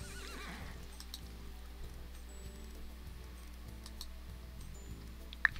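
A horse in the Wild Horse Islands video game gives a faint whinny over soft, rhythmic game background sounds, quiet and fairly distant.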